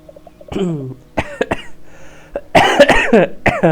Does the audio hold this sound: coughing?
yes